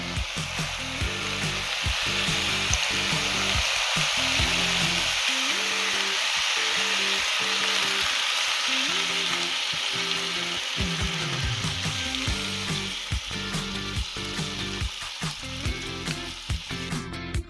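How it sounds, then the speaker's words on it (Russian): Potatoes and meat are stirred in a kazan over an outdoor campfire, then boiling water goes in: a loud, steady sizzle with rhythmic scraping strokes throughout, close by, with no talking. "Перемешиваем все и вливаем кипяток."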